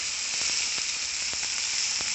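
Drumstick leaf chutney sizzling as it hits hot tempering in a pan, a loud continuous hiss with a few small crackling pops scattered through it.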